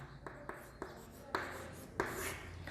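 Chalk or marker strokes on a board during a physics lesson, a series of short scratchy taps and scrapes spread across the clip, near and moderately quiet with no talk over them.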